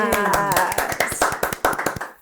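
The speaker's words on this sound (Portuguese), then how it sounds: "uma salva de palmas!" A few close hand claps on a podcast, sparse and uneven, roughly a dozen sharp claps over two seconds with a voice faintly underneath at the start.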